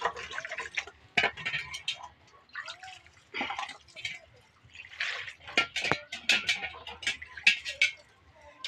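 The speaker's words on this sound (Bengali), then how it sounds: "যে গাজরগুলো জলে ভালো করে আমি ধুয়ে নিচ্ছি" Cut carrots are washed in a bowl of water by hand, with irregular splashes, drips and sloshing bursts coming close and fairly quiet, separated by short pauses.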